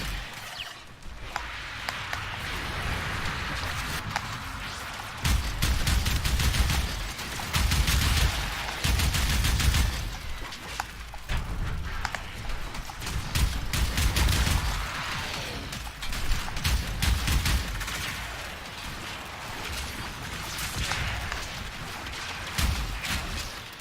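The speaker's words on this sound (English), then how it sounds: "So this is the comb. It's a auto shotgun." The Kohm auto shotgun fires in the video game Warframe: dense bursts of rapid booming shots come in repeated volleys with short lulls between them, loud and continuous over a low rumble.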